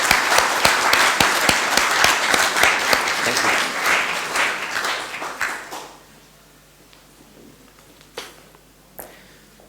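Loud audience applause fills a hall at a community centre's 35th anniversary celebration in Rochdale, steady dense clapping that fades out midway, followed by a quieter room with a voice briefly speaking and a few stray sounds.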